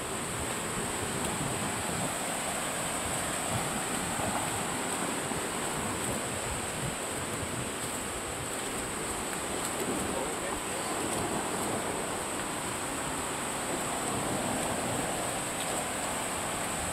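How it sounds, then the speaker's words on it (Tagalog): Steady wind roars across the microphone at the Tinipak rock formation, a constant broadband rush with no letup, loud against the open outdoor setting. "Medyo mahangin dito."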